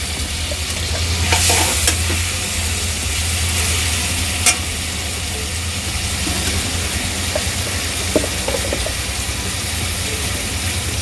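Paneer cooks in a pan with pizza sauce, stirred with a steady soft scraping over a continuous low sizzle, with a couple of sharper clicks of the spoon against the pan.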